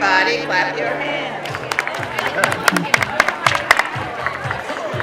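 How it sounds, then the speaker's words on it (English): A school board meeting audience claps their hands together, the clapping starting faintly under crowd murmur and building into sharp, scattered claps and cheers that grow denser toward the end. "Everybody clap your hands."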